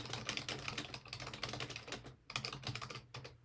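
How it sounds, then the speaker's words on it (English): Rapid, steady typing on a computer keyboard, with dense clattering keystrokes and a brief pause partway through, close and fairly quiet, with no talking. "I'm going to continue typing"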